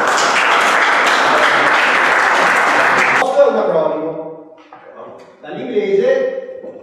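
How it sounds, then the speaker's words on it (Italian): Audience applause at a plenary session, a steady dense clapping for about three seconds that stops abruptly, after which someone speaks into a microphone. "Un applauso."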